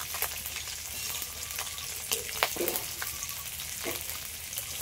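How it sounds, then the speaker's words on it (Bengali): Panch phoron spices sizzling and crackling in hot oil in a pan where fish heads have just been fried, a steady close fry with scattered pops and a few stirring scrapes, no voices. "একটা পাঁচফোড়ন দিয়ে দেবো,"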